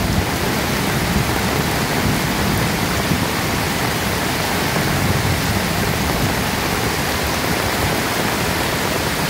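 A swollen river near the point of overflowing rushes in a loud, constant broadband roar of churning water that never lets up, close and steady throughout.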